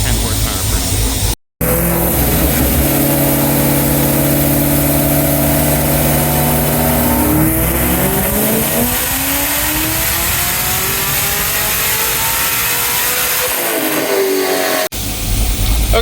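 A 2018 Chevrolet Camaro ZL1 1LE roars on a dyno, its engine climbing steadily toward 7,500 rpm in one long, very loud sweep with a brief dropout near the start, while voices talk underneath.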